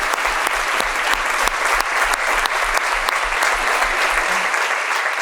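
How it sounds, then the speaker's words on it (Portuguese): A conference audience at a Portuguese talks event gives sustained applause, dense steady clapping filling the room for the whole stretch before fading slightly at the end. "uma salva de palmas a todos vocês que estão aqui hoje."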